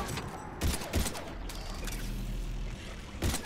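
Gunfire in the video game Mass Effect 3, with several sharp shots in quick bursts, near and loud, over a steady low rumble of game ambience.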